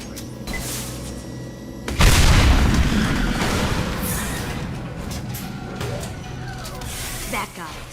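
Tanks are blown up in the video game Mass Effect: a deep, loud explosion bursts two seconds in and rumbles on for several seconds, with voices speaking over it.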